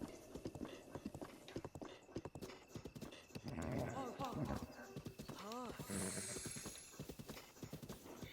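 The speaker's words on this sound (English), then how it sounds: "Keep soothing your horse." Horse hooves clip-clop steadily in Zelda: Breath of the Wild, with a whinny partway through, all under ongoing talk.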